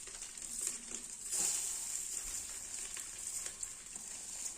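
Washed Gobindobhog rice tipped into a hot pan for khichuri sizzles and crackles steadily up close, with a brief louder burst of frying early on and no talking.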